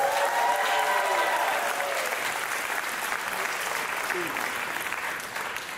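Sustained applause from a large audience at a San Diego natural-products pitch event, loud and steady at first and tapering slightly near the end, with some cheering mixed in.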